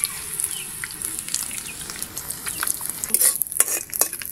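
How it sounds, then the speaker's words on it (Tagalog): An egg fries lightly in a pan, giving a soft, steady sizzle with faint crackles and a few utensil clinks, growing a bit livelier toward the end. "prituin lang po natin na bagya yung ating itlog"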